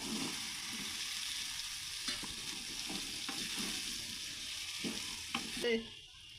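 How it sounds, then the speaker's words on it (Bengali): Chickpeas are stir-fried in thick masala with asafoetida and black salt, a soft, low sizzle broken by occasional spoon scrapes and light clatter, close by and fairly quiet, with no voices. "কষানো হয়ে আসছে, এখন এই ছোলাগুলো দিয়ে দেবো"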